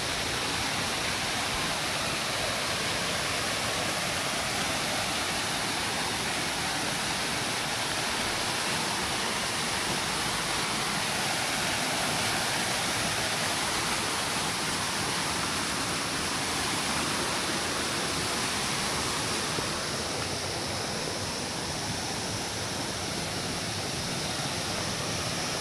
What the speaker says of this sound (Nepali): यहाँ यो झर्ना छ यस्तो पानी यस्तो दामी छेउमा गइरहेको आवाज पनि यस्तो बबाल आइरहेको